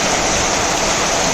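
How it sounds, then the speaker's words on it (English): Heavy rain pours steadily in cold weather with ice falling, a loud, dense, continuous hiss of water and ice hitting surfaces, with no voices. "As you can see, there's some ice falling down, and the rain is really heavy."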